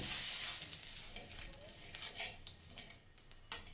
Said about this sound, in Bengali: এই তেলের ভিতরে জিরা রাঁধুনিটা ফোড়ন দিয়ে দিব তেজপাতা দিয়ে দিলাম